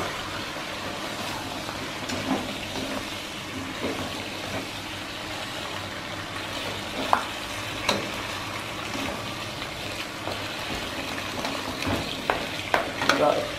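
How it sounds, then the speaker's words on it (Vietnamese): Chicken liver stir-fried with glass noodles and mustard greens in a pan gives a steady close sizzle. Irregular scrapes and clacks from a utensil tossing the food punctuate it, louder toward the end. "mình cũng cho nó vô để mình xào chung với lại gan với rau cải luôn"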